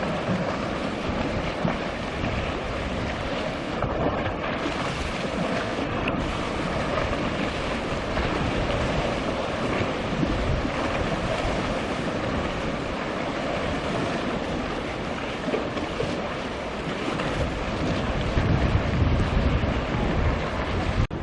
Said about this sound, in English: I'm just watching how the waves break and run along the wall